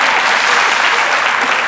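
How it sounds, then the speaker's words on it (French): A crowd applauds loudly and continuously, a dense, close wash of clapping hands with no pauses. "On applaudit bien fort."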